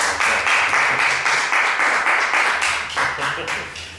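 Audience applause welcoming a speaker to a film talk on cinema and social mobility, brisk rhythmic clapping from a room of people, loud and continuous throughout.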